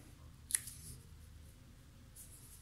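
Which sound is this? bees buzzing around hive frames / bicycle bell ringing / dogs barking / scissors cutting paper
scissors cutting paper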